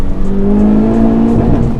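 A Honda Civic Type R engine revs continuously and climbs steadily in pitch toward redline in second gear, a loud, close, sustained roar pulling hard through the upper rev range.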